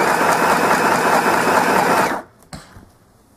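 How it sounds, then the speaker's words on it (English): Sewing machine running steadily while stitching ribbon onto the fringes of a garment, a close continuous whir that stops abruptly after about two seconds, followed by a faint click. "now I'm going to sew on the ribbon of blue"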